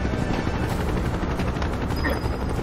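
A helicopter in the video game Final Fantasy 7 Rebirth makes a loud, continuous, rapid rotor thumping that stays close and fills the whole moment.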